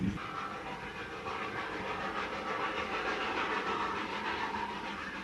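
A steam locomotive climbs the Snowdon Mountain Railway on a warm summer's day, its steady broadband chuffing and rolling rail noise holding level and fairly close for the whole stretch, with no voices.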